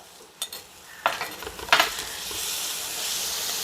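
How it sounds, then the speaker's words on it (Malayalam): Ginger garlic paste drops into a hot pan with a few clinks and scrapes from a spoon, then a sizzle builds into a steady frying hiss close by. There is no talk. "കുറച്ച് ഇഞ്ചി വെളുത്തുള്ളി പേസ്റ്റാണ് ഇതിടാം"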